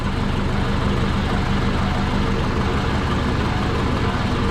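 A Subaru Forester engine runs steadily with a loud, constant low rumble and exhaust drone, close by and unchanging throughout, with no exhaust leak audible.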